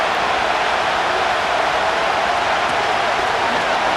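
Steady, dense stadium crowd roar in the video game Madden NFL 25, a continuous broadband wash of cheering that holds at an even level for the whole stretch, with no commentary over it.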